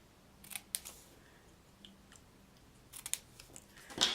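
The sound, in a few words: scissors snipping a paper banner end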